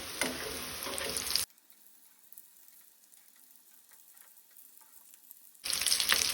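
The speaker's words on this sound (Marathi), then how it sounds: "मोठी फ्लेम दवरून आमकां कटलेट फ्राय करून घेवपाक जाय" Chicken cutlets frying in a pan over a high gas flame, a loud dense sizzle that cuts out almost entirely for a few seconds and then returns just as strongly.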